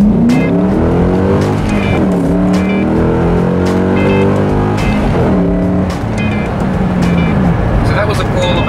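A 2007 Ford Mustang GT fitted with an Airaid cold air intake accelerates hard through first, second and partway into third gear, the engine note rising and dropping between loud, close shifts and running steadily throughout.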